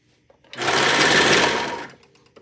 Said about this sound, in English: you can use a regular sewing machine to do this as well